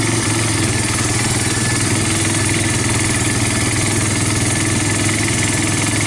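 A Yamaha Bear Tracker 250 ATV with a new intake and carburetor runs steadily during a ride, its engine giving a loud, continuous drone with a throbbing low-end pulse and no talk.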